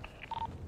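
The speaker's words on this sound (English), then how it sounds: "he's going through his phone now" Phone keypad tones in a role-play crime video game, a few brief beeps followed by one longer steady tone, faint and quick over low background noise.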